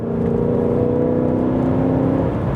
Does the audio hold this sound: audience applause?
no